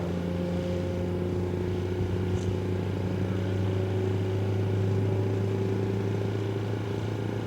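A big race push truck engine idles at Bonneville Speedweek with a steady, rumbling tone that holds constant throughout, moderately distant with a faint background hum.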